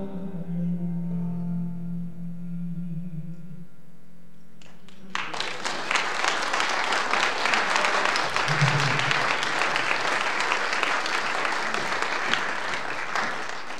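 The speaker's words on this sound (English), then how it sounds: "Can we have another round of applause for them, please?" A church congregation breaks into loud, sustained clapping that swells after a soft, held sung note fades out, then keeps going steadily to the end.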